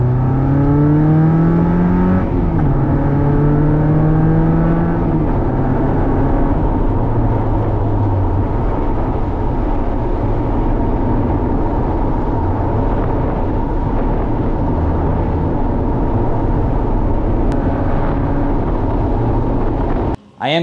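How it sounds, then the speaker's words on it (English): A Mazda NC Miata with an aftermarket exhaust, header and catless midpipe, droning loudly and steadily while driving, with rising engine tones early on and a continuous in-cabin roar throughout. "I think it's a really good balance of racy sound without sounding too"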